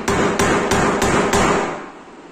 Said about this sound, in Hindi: अपनी हथौड़ी की मदद से आपको इसमें होल कर लेना है